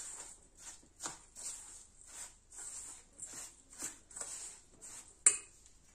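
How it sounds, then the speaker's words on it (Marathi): A spoon scrapes and clinks against a bowl in steady strokes about twice a second as fine semolina is stirred into a bakery-style rava cake batter; the sound is soft and close, ending with one sharper clink. "रवा देखील असा मिक्स करून घ्यायचा आहे."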